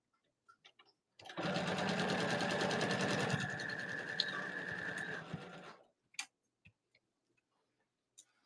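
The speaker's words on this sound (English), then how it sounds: "So we sewed around with the 1/8 inch." A sewing machine stitches a 1/8 inch seam on a small lay-flat bag in one steady run of about four seconds, with rapid even ticking that slows slightly before stopping, followed by a few soft clicks.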